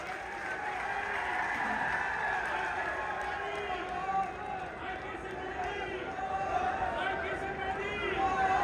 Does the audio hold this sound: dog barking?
no